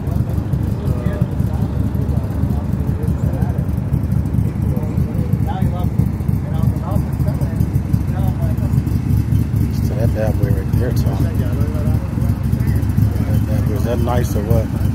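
Original red Ford Shelby Cobra engine idling and running with a steady, loud low rumble close by, while people talk over it.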